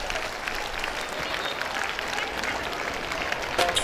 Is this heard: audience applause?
yes